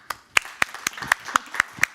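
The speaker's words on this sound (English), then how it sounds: "I think we should thank Vanessa with an applause." Hands clap at a mining and investment conference, a short run of crisp, evenly spaced claps close by, sounding like a small group rather than a full crowd.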